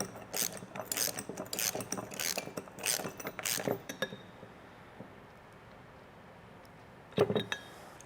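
A ratchet clicks in quick, rhythmic bursts while tightening nuts on Timbren bump stop hardware for a Toyota Tacoma, the clicking close and crisp for several seconds, then pausing before one final short run of clicks.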